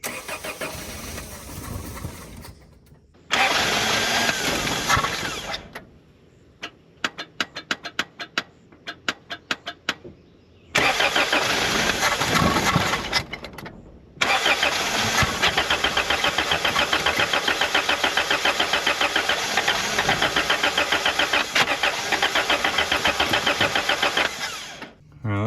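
A Toyota 22R engine in a cheap pickup, dosed with Seafoam, cranks in rapid starter bursts, stalls and catches again, then settles into a loud, rough, close running roar; a voice is briefly heard.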